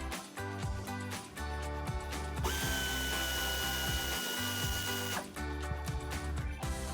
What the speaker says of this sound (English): I have my air ratchet right here. It's a 3/8 drive with a deep 15mm socket.